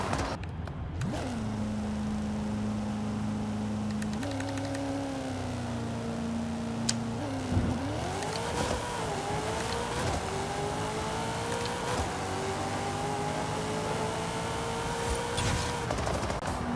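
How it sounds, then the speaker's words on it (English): Drag car in Forza Horizon 5 launching and running up through its gears, a steady loud engine drone that dips briefly and climbs again in rising pitch with each shift, no voices over it. "now all you have to do is let go of the clutch and the e-brake, and the car will do a nice settle wheelie"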